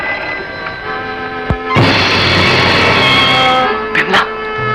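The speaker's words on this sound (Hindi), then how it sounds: "Oh telephone disturbance." A telephone rings in a 1960s Hindi film scene, a loud steady bell trill lasting a few seconds, over a faint musical background with a brief knock just before it.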